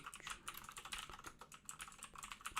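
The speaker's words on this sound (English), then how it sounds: "I'm done typing." Rapid, uneven keystrokes clatter on a computer keyboard in a continuous stream of light taps, quiet and close, with no voices.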